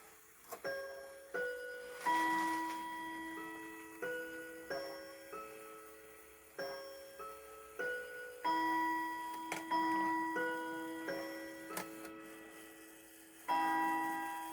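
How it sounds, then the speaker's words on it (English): A Bucherer triple-chime grandfather clock rings a run of tuned bell-like chime notes in spaced phrases, each ringing out and fading, soft and close in a quiet room. "And now we should hear 6 beats because it's 6 o'clock."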